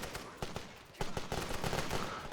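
A machine gun rattles in rapid, continuous bursts in The Great War: Western Front video game. The fire is loud and sustained, with no voices over it.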